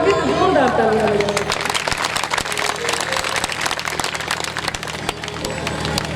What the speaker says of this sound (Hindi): यदि कुछ अच्छा लगे तो जोरदार ताली बजाओ।